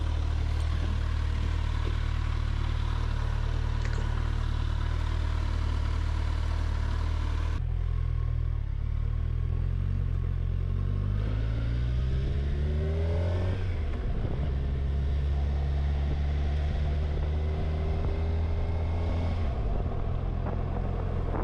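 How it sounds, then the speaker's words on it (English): A 2025 Kawasaki Ninja 1100SX inline-four motorcycle engine idles with a deep, steady burble, then revs up and down a few times with rising and falling pitch, close by. "it does have that beautiful inline four sound"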